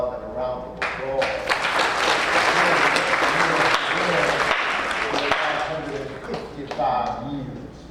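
Audience applause at a church gathering with a pastor, a sustained dense clapping wash lasting several seconds, with voices and cheers mixed in and a tapering finish.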